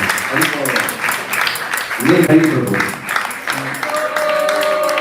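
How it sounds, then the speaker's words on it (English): Audience applause at an ISKCON gathering, a steady patter of clapping under chanting and speaking voices throughout. "So let's give a round of applause for Bhagavata Mataji and Ganesh Prabhu."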